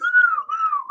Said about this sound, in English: That's where he just blew that little whistle